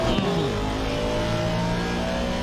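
Twin-turbo AMG V8 in an Aston Martin race car revs hard and steadily, a loud, close, sustained engine roar with rising harmonics throughout, at an endurance race at Mount Panorama.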